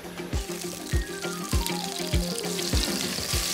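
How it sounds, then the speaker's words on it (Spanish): Vegetables sautéing in extra virgin olive oil, a steady sizzle under regular rhythmic thumps and a faint falling tone, close and moderately loud, no talking. "vamos a empezar a sofreír las verduras"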